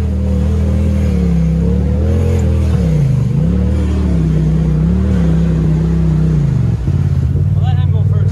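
A side-by-side off-road vehicle's engine, fitted with new mods, runs steadily close by with a rumbling, wavering drone that rises and dips as it revs on a rocky trail, with people talking over it.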